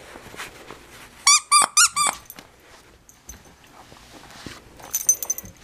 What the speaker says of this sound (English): let me see if I can get it to squeak